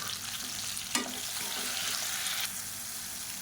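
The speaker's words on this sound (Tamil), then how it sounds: "இதை நல்லா வதக்கி விட்டுக்கலாம்." Chopped onion and tomato sizzle steadily in a hot pan, a continuous close frying hiss with a brief stir or scrape partway through.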